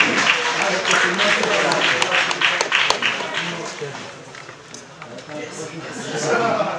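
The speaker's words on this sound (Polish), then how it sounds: "raz proszę brawa dla Łukasza" Crowd applause at a local football match between Górnik Brzeszcze and LKS Gorzów, a dense patter that fades midway then swells again, with voices mixed in.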